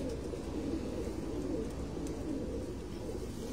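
A cross pigeon coos on a rooftop at Nahid Khan's loft in Sukkur, low soft cooing rumbling continuously and close amid other birds, with no talk.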